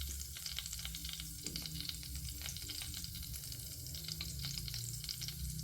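Curry leaves hit hot oil where mustard seeds have already popped, for a fish curry, giving a steady, fairly quiet sizzle with faint crackles and stirring scrapes and no voices.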